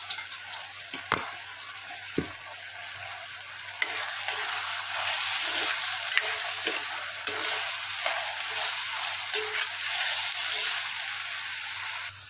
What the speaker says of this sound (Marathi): मस्त अशी त्याला उकळी येत आहे